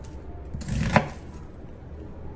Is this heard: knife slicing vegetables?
yes